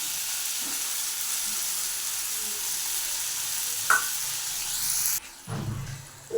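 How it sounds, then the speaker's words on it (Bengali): Onion, tomato, turmeric, chilli powder, ginger, garlic and onion paste frying in a pan, a soft continuous sizzle with occasional stirring clinks, then a sharp louder burst of sizzling near the end, no speech. "একটু ভাজা ভাজা হয়ে যাক পিঁয়াজ টমেটো দিয়ে দিলাম আর তার সাথে হলুদ গুঁড়ো লঙ্কা গুঁড়ো আদা রসুন আর পেঁয়াজ বাটাও দিয়েছিলাম"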